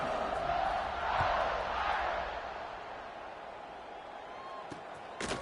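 A stadium crowd roars at kickoff of a college football video game, Purdue at Notre Dame, a loud swelling cheer that fades to a lower rumble, followed by a sharp thump near the end.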